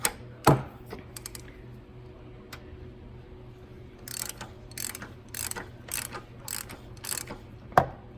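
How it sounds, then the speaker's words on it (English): Ratchet wrench working loose the oil pressure sensor on a 2006 Chevrolet Impala SS, several short bursts of clicking at close range separated by pauses and a few knocks, over a low steady hum. "But get the ratchet down in there."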